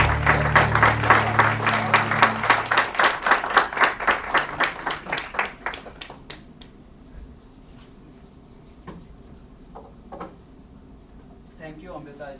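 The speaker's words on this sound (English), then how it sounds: "It was a splendid performance. Big round of applause." An audience at an Ayurveda Day event applauds after a sung Indian classical vocal performance. The final held notes fade under brisk, close clapping that peaks early, then thins out and dies away into near silence by the middle.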